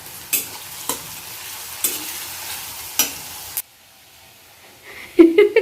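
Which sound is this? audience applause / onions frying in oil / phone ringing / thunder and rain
onions frying in oil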